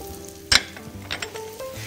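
Dried chillies, ginger and garlic hit a hot wok for a Chinese-style spicy pork stir-fry, giving a soft sizzle with a sharp clatter near the start and a few lighter stirring knocks, fairly quiet and close.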